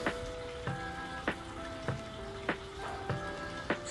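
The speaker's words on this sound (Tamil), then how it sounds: "இப்போ நல்லா வதங்குது" Sliced onions frying with cinnamon and cloves for Sri Lankan seeni sambol give a steady close sizzle, broken by regular sharp scrapes or taps about every half second.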